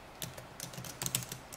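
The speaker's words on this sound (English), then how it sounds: "So we'll type in" Quick light keystrokes on a computer keyboard, a short irregular run of soft taps heard close and alone.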